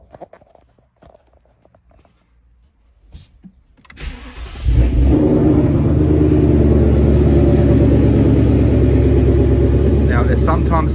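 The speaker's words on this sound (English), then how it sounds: "now I'll start the vehicle and you'll hear the cam tune" A 2020 Ford Mustang GT with a cam tune cranks and fires up after a quiet stretch of faint handling noises, then settles into a loud, lumpy, rumbling idle close by.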